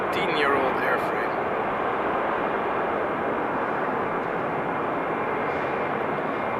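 Fly One jet airliner, a 14-year-old airframe at Amsterdam Schiphol, making a loud, even broadband engine rush throughout while a person talks over it near the start.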